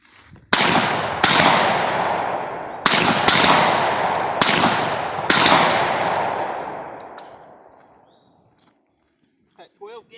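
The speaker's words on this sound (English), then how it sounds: "That 12 gauge, that 12 gauge and slugs kicked pretty good." A 12 gauge shotgun firing slugs outdoors: six loud, sharp blasts in irregular succession, each trailing into a long rolling echo that fades over several seconds, followed by faint voices at the end.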